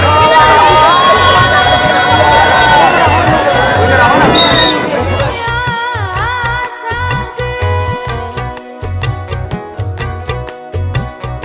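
A dense crowd of pilgrims near the Jagannath temple in Puri makes a loud, continuous hubbub. It is thickest in the first half, then thins to sharper intermittent noises and tones.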